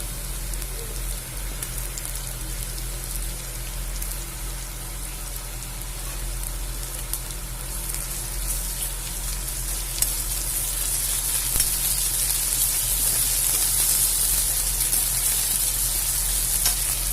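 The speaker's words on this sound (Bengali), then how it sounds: "এর মধ্যে আমি দিয়ে দেব আদা রসুন আর জিরে বাটা" Ginger, garlic and cumin paste fries with browned onions in mustard oil in a kadai, a steady crackling sizzle that grows slightly louder and sharper toward the end, with occasional stirring clicks.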